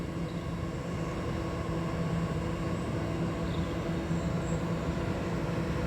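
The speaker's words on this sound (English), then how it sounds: "Diesel locomotive, it's class" Class 66 diesel locomotive passing through Shenfield station in Essex: a steady, continuous low rumble and hum of engine and rail noise, loud and sustained throughout with no talk.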